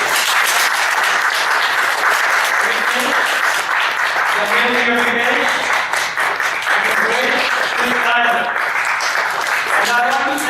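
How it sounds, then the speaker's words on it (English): Sustained audience applause for a panelist at an energy blockchain event in a WeWork space, loud dense clapping throughout, with a voice speaking over it part of the time. "Big applause for Alistair Pim"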